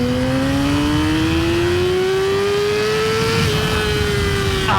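Yamaha R6 600cc motorcycle engine revs close by with a loud, steady high-pitched whine that climbs gradually in pitch and holds, then eases slightly at the end.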